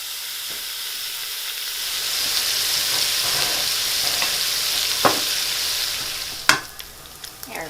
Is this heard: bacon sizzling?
yes